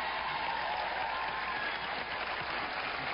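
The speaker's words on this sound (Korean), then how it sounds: "환영의 박수 부탁드립니다" Studio audience at a Korean television talk show applauding, a dense, steady wash of clapping throughout with no talk over it.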